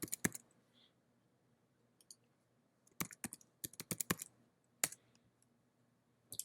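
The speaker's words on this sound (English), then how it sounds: "So we're going to type restore." Computer keyboard being typed on in a quiet room, a few isolated key taps followed by a quick burst of clicking keystrokes and a final tap, close and fairly crisp.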